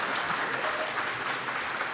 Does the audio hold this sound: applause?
yes